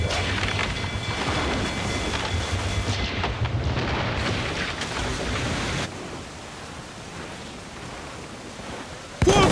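Ship cannons fire in a naval battle in Assassin's Creed IV Black Flag, a dense, continuous roar of booms and rumbling blasts at steady loudness, with a brief louder burst at the end.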